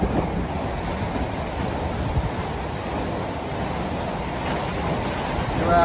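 Strong sea waves roar continuously with a heavy wash of surf and wind, loud and steady, swelling slightly toward the end.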